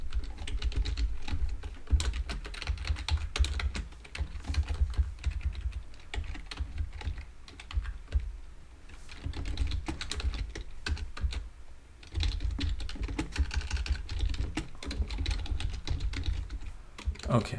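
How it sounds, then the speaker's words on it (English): Steady rapid keystrokes on a computer keyboard while code is typed for a calendar-printing exercise, close and continuous clicking throughout with a brief dip in the middle and faint low background hum. "I want to type all the things here, all the cases."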